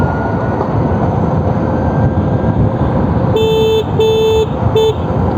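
An Ather 450X electric scooter horn sounds in three loud, close electronic honks, two longer and one short, over steady road and wind noise outdoors.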